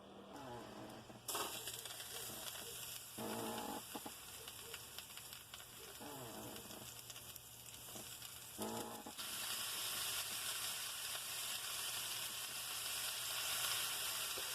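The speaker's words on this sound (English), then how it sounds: "We just want to sear them, not cook them all the way through." Pork ribs searing in a little hot oil, a bright continuous sizzle that briefly dips at moments and then swells louder toward the end, with a low hum underneath.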